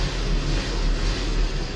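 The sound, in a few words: Kia Bongo 3 refrigerated truck engine idling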